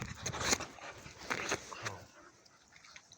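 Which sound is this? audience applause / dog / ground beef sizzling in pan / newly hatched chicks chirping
dog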